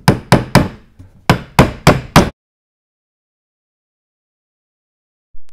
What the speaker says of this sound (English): the flat side of the hammer can be used for almost anything, including hammering nails